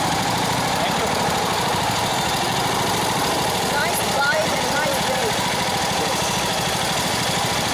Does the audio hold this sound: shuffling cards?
no